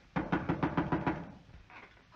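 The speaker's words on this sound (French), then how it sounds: "on entend des pas au dehors et quelqu'un qui frappe à la porte." Six quick, evenly spaced knocks on a door, fairly close and crisp, followed by a pause and a fainter rustle.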